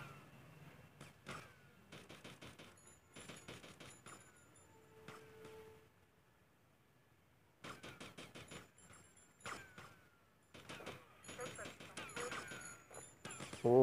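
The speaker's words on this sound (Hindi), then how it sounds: "ओ भाई फायरिंग स्टार्ट।" Gunfire in the video game GTA Vice City, with bursts of sharp game shots in clusters and pauses, mixed with game engine and ambient sounds, while someone talks over the action.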